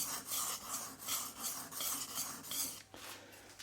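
Steel plane iron rocked and rubbed on a woodworking sharpening stone, a rhythmic series of short gritty scraping strokes, close and fairly quiet, with brief pauses between passes and no voices.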